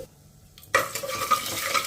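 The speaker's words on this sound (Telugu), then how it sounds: "పోపు దినుసులు వేగిపోయాయి." Mustard seeds, urad dal, coriander seeds, fenugreek and cumin hit hot oil at once, erupting into a loud, steady crackling sizzle with scattered pops, after a brief quiet start.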